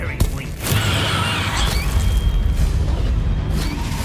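Bombarda blasting spell in the video game Hogwarts Legacy, a loud sustained boom with crashing, mechanical rumble and sharp bursts, playing alone without talk.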